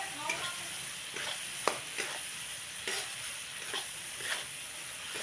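Masala with peas and tomato sizzles quietly in a pan for gobhi aalu matar, with a steady soft frying hiss broken by scattered light clinks and scrapes of a stirring spoon.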